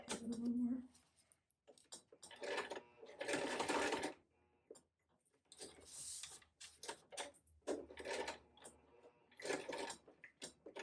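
A sewing machine stitching fabric in short bursts of mechanical whirring and ticking, stopping and starting between pivots, with a person talking in between.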